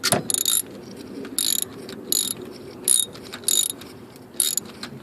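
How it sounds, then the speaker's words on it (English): A ratchet fitted with two extensions and a swivel loosening the oil pressure switch on a 1999 Dodge Durango, sharp rapid clicking bursts repeating about every 0.7 seconds in a steady back-and-forth rhythm, close up. "Put the ratchet on there. You know how to do counterclockwise. Turn it."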